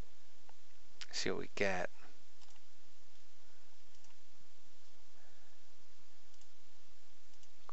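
Two quick computer mouse clicks close by near the start, sharp and dry, followed by a quiet room with a short spoken remark.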